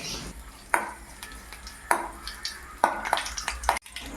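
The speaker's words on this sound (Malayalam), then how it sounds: "എണ്ണ കടുക് കറിവേപ്പിലയും വറ്റൽമുളകും ചേർത്ത് ഇളക്കി കൊടുക്കുക" Mustard seeds, curry leaves and dried chillies are stirred in hot oil. A spoon scrapes and knocks against the pan in a few distinct strokes over a faint sizzle, close and alone.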